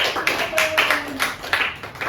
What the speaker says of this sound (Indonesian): Mungkin tepuk tangan terlebih dahulu